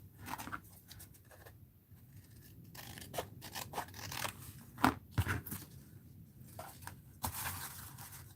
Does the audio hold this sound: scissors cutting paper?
yes